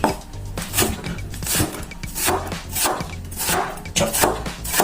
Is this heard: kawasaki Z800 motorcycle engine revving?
no